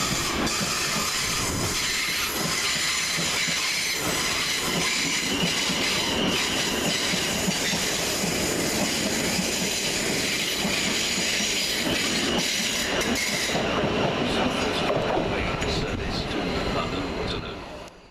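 Train passing through Richmond railway station, loud and close throughout with steady rolling rumble, wheel clatter and metallic screech, easing off near the end.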